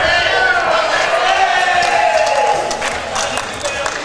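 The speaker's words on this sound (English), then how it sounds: "You would have heard the crowd there." Spectators at an outdoor lawn bowls pennant match react loudly to a big bowl, with a continuous roar of crowd noise and cheering throughout and some scattered claps near the end.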